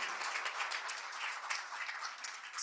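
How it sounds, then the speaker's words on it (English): An audience at a post-election reflection event applauds the organizing staff with continuous, fairly quiet clapping from many hands. The clapping sounds somewhat distant and stays even from start to finish. "So round of applause for our staff as well who make this happen and everything else."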